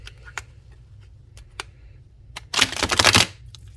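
Bendy tarot cards are handled with a few scattered light clicks and taps before a short, dense riffling burst of shuffling near the end, close and fairly loud.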